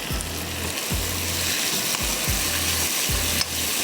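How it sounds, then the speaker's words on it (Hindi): Cubed onions frying in a pan with chicken for butter chicken pasta, a loud continuous sizzle punctuated by several low scraping strokes of a spoon stirring at a regular pace, close up with no talking. "निकालने के बाद हम इसमें प्याज डाल देंगे क्यूब्स में कटी हुई"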